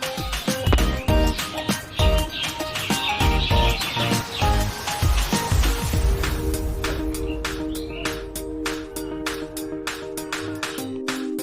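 Pigeons in a loft coo and chirp amid busy clatter and sharp clicks and taps, fairly loud and close, gradually thinning to sparse ticks over a steady hum.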